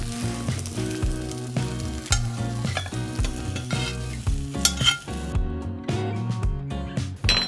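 Onions and garlic sizzle steadily in olive oil in a hot pan on a grill, the crackle running under loud background music.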